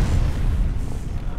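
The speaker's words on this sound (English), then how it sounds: "Okay, that was one big explosion." A big explosion in the video game F.E.A.R. gives a loud, deep boom with low rumbling that fills the whole brief moment, close and dense with no clear talk over it.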